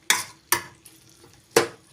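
A spoon scrapes a pan of cauliflower egg fry as it simmers on low heat: three sharp, close stirring strokes with quiet gaps between them.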